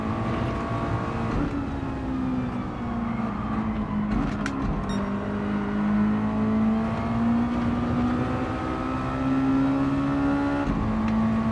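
A Mazda Roadster touring car engine in Gran Turismo 7 drones at steady high revs, its pitch rising and easing through corners with brief dips, loud and continuous with no talking.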